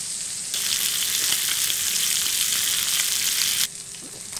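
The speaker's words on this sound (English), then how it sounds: "And we'll add our salmon fillets skin side up." Sockeye salmon fillets laid skin side up sear in a hot pan with a loud, close, steady sizzle that starts abruptly and then cuts back to a softer background hiss after a few seconds.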